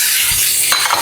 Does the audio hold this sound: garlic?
yes